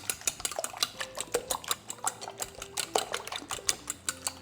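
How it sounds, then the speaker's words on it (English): Eggs whisked with water using a fork: quick, rhythmic clicks and taps of metal against a bowl, close and steady across the whole stretch, with no talking. "I just like to use a fork to whisk these up"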